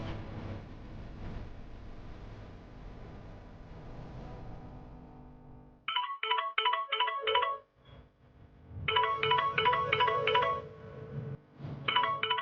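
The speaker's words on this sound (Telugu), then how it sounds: "రూపారాణి వాళ్ళ అమ్మగారు ఫోన్ చేశారు." A telephone rings in repeated bright trilling bursts with short gaps between them, starting after several seconds of low background sound, close and clear with no talk.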